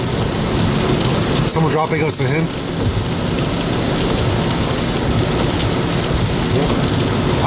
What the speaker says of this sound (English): And here in Maryland, the rain appears to be subsiding.